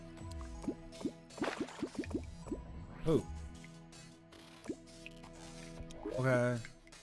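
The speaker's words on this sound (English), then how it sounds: "Just water." Water dripping in the game Terraria, a run of small, quick liquid plinks and gloopy drops in an uneven rhythm, heard faintly alongside a brief spoken exclamation.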